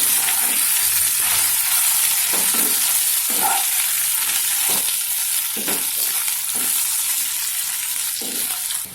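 Salted taro (arbi) chunks fry in a pan with a constant loud sizzle, broken by repeated scraping strokes of a spatula as they are stirred. No one speaks.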